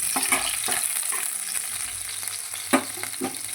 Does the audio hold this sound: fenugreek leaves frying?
yes